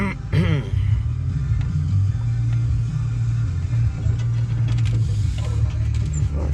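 A long pickup truck driving and maneuvering through a tight turn, its engine a steady loud low rumble close by, with brief mechanical squeaks and clunks on top.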